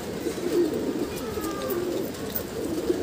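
Pigeons on a rooftop loft coo softly in low, rolling calls, close by over a steady background hiss, with faint chirps higher up.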